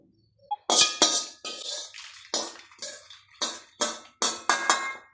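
Roasted dried red chillies being tipped from a pan onto a plate, a series of sharp metallic clangs and scrapes in uneven bursts, close and fairly loud against near silence.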